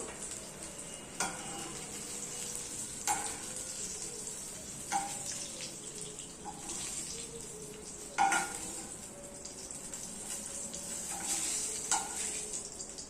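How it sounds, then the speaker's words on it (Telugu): Tomato pieces fry in a little oil left in the pan after green chilies, making a soft continuous sizzle close up, broken by several scraping stirs at irregular intervals. "టమాటాలు అందుకని ముక్కలు వేసి ఫ్రై చేసుకుంటున్నాను"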